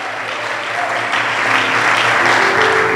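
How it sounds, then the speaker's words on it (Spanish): A church congregation applauds during a sermon, a loud, full, continuous wash of clapping that builds slightly and carries on to the end, with no voice over it. "Dale un aplauso a Dios por eso."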